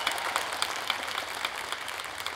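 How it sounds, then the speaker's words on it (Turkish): A studio audience at a televised masked singing show applauds the dancers, a brief burst of dense, close clapping. "Dansçılarımıza bir alkış ya."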